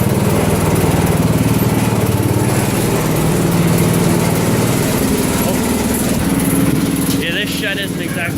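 A John Deere 110 lawn tractor engine runs hard at full throttle, a loud, steady close-up drone that holds throughout with a brief rattle near the end.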